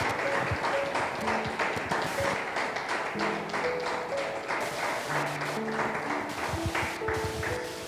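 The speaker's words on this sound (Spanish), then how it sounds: "Dale un fuerte aplauso al Señor." A church congregation claps hard and steadily through a worship service. The dense applause carries on without a break, and scattered musical tones ring over it.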